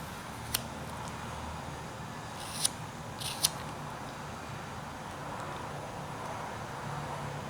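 A knife cuts into a block of wood while whittling a small sailor figure, giving a few brief, sharp scraping snicks spaced apart over a low steady background hum.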